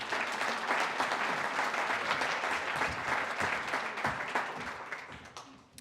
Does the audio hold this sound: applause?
yes